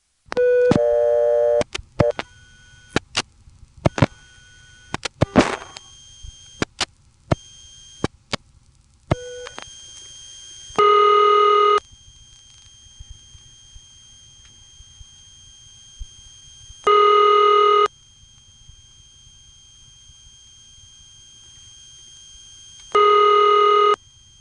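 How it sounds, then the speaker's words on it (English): An intra-office call on a 1977 West Los Angeles–style ring from an EAX local/toll telephone switch: a rapid flurry of clicks and short tones, then three separate long electronic ring bursts spaced several seconds apart, clear and close with no voices. "here is an intra-office call within their office that has this same West Los Angeles ring"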